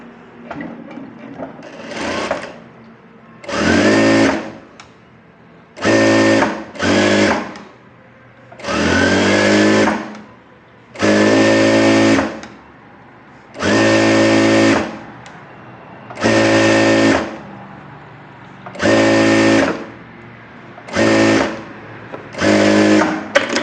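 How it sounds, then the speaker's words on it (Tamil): A sewing machine stitches a puff sleeve on fabric in about a dozen loud bursts of rapid whirring, each lasting a second or two and separated by short quiet pauses. "அதே மாதிரி இந்த பக்கமும் தைச்சிடலாம்"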